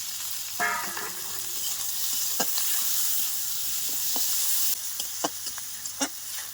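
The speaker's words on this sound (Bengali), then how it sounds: "কাঁচা লঙ্কা দিয়ে দিচ্ছি তেলের উপরে" Green chillies dropped into hot oil hiss and sizzle in a soft, continuous crackle, with scattered sharp pops and clicks from the pan, fairly quiet and close.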